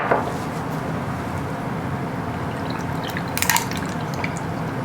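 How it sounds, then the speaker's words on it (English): Chilled Thai iced tea is poured over ice in a glass, a steady liquid trickle with faint clinks of ice, and a brighter splash near the end. "basically you're going to pour it over ice"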